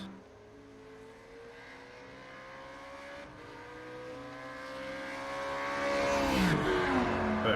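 Race car in iRacing driving through the Corvette curves at Le Mans, its engine note rising steadily as it accelerates and grows louder toward the end, a sustained whine with a brief downshift near the close.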